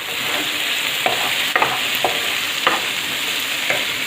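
Chopped mint leaves and green chilies sauté for palak rice, a loud, constant sizzle broken by several sharp spatula scrapes and taps at uneven intervals, up close with no voices.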